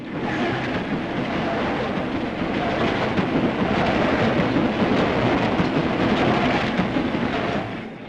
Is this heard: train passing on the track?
yes